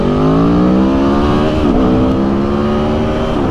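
A 2022 Aprilia Tuono V4 motorcycle under way, its fairly quiet exhaust droning steadily with a brief dip in engine pitch, mixed into loud, constant wind rush across the microphone.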